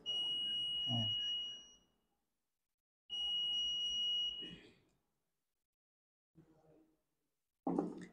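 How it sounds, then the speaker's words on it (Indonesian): Piezo buzzer wired to an ATMega2560 with a 4x4 membrane keypad, sounding when the star key is pressed: two steady high-pitched electronic beeps of about a second and a half each, separated by a pause, followed by faint brief noises. "Ini kalau saya tekan bintang, nah dia akan bunyi."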